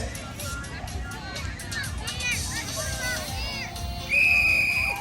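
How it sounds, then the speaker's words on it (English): A sharp, steady whistle blast cuts in near the end over the busy chatter and shouts of a crowd at a Kosrae Liberation Day event in Honolulu. "Listen for the whistle."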